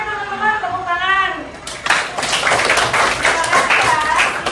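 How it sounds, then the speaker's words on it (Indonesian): Schoolchildren in a sixth-grade classroom break into clapping for three classmates, starting after a brief stretch of a voice and filling the rest as dense, steady applause. "Oke teman-teman, tepuk tangan."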